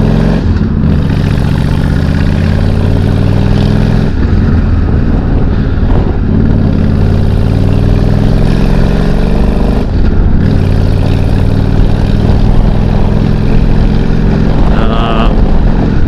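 A Honda Shadow 1100 Aero cruiser motorcycle engine running loud and steady while riding, a deep continuous rumble with brief dips as the throttle eases, close up and alone.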